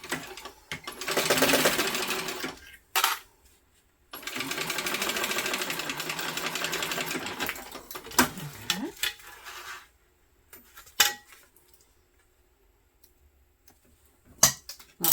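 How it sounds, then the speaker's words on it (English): A sewing machine stitches a fabric base onto two side panels of a travel bag in fast whirring bursts, two long runs followed by short stops and starts, with quiet gaps in between. "Sew the base onto the two side panels. And so we just get this one here. Back stitch well beginning and the end."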